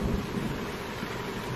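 A violent film thunderstorm: a dense, continuous roar of heavy rain and wind with low rumbling thunder, steady and loud throughout with no voices.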